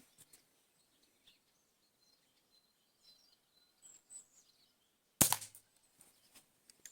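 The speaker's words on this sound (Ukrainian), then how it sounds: "це якийсь по звуку цікавий постріл" A single sharp shot from an IZh-53M air pistol cracks out loudly after several seconds of near silence, with faint birdsong in the background.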